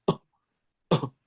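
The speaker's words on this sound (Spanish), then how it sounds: "Una tos seca" Two short, dry, non-productive coughs close by, separated by a brief pause, with silence around them.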